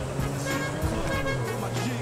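A limousine's car horn in the video game GTA 5 sounds as a sustained tone over engine and traffic noise, with talk in the background.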